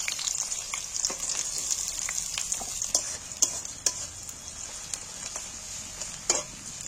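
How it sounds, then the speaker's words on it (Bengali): Small chopped onions fry in hot deep oil for a chicken dum biryani, giving a steady close hiss of sizzling broken by scattered crackles and pops, with no talking. "আমি ছোট পেঁয়াজ কাটাগুলো আমি ছাঁকা তেলে একটু ভেজে নেবো, তেলের মধ্যে তুলে দিচ্ছি"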